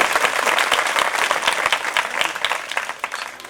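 A crowd at a village lake inauguration ceremony applauds, dense rapid clapping from many hands, loud and sustained before thinning slightly toward the end.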